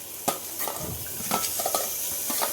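Carrot and beans, cut small, stirred in a hot pan, with a steady sizzle of frying under scraping and clinking of a utensil against the pan, close by.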